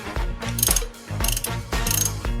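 A ratchet with a 17 mm socket loosens a Yamaha Mio Sporty motorcycle wheel, giving three close bursts of rapid, metallic clicking.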